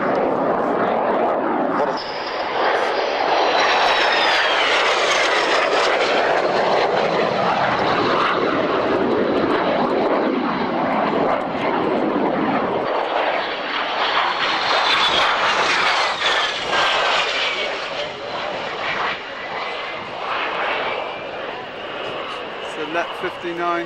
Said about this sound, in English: if you look now to your right, you'll see the Jaguar running in